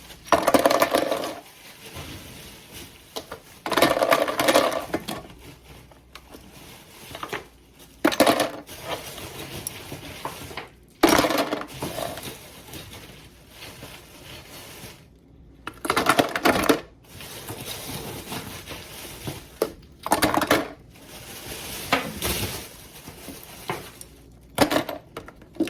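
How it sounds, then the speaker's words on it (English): Handfuls of ice are thrown around the bucket of an ice cream maker while making homemade vanilla ice cream. There are several separate bursts of clattering, rattling cubes, close by, with quiet pauses between them. "You want to just throw some ice all around it"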